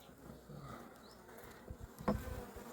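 A soft, steady buzzing of bees up close, with a few louder passes and faint rustling underneath.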